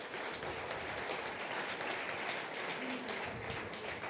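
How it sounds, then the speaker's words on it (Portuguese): A church congregation applauds together, a steady wash of clapping that sounds somewhat distant and reverberant in the sanctuary. "Dê um aplauso ao Senhor"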